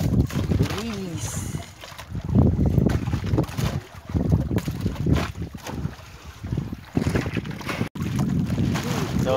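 A boat motor runs at night in the Philippines, a steady low churning hum with wind and water noise over it, rising and falling in loudness, with voices talking at times.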